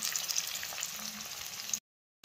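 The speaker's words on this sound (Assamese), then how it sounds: "এতিয়া পাঁচফোৰণখিনি দি দিছোঁ।" Panch phoron spices sizzling in hot oil for elephant apple pickle, a soft steady crackling fry for under two seconds before cutting to silence, no talking.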